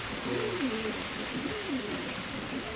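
A pigeon sitting on a chicken egg coos close by in a soft, repeated rolling rhythm, three or four low phrases over a steady background hiss.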